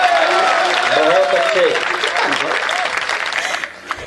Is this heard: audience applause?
yes